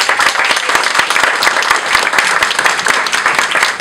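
Audience at a borough hall pride awards ceremony giving a big round of applause, dense sustained clapping from many hands, loud and close throughout.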